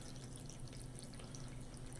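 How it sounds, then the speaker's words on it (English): Water gushing from a hand pump in a cartoon, a continuous steady splashing stream at moderate level with no voices, unbroken for the whole stretch. "starts pumping the water, and the water comes out"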